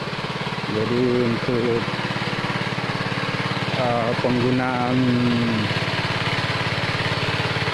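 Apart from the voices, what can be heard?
Stiem engine converted from petrol to LPG running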